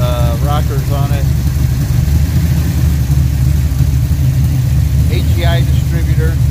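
Pontiac 455 V8 on pump gas with ported 6X heads, stainless steel valves, a competition valve job and Harland Sharp 1.5 rockers, running at a steady loud idle throughout, with people talking over it at the start and near the end.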